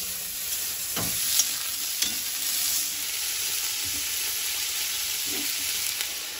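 Pointed gourd (potol) sizzling in hot oil, a continuous hissing fry with a few faint clicks of stirring, steady and close with no talk.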